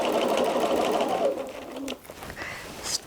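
Sewing machine running fast during free motion quilting, a dense continuous mechanical whir of stitching that slows and stops about two seconds in, followed by faint handling noises and a brief voice.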